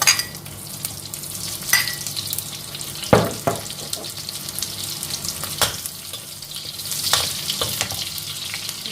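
Shallots frying in a hot pan for pad thai, a soft steady sizzle with scattered clinks and scrapes of stirring utensils.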